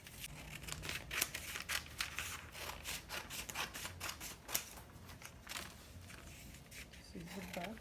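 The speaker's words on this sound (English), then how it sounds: "All I'm gonna do now is to cut this out." Scissors snip through paper while cutting out a drafted pencil skirt back panel, a run of short crisp cuts and paper rustles under continuous talk.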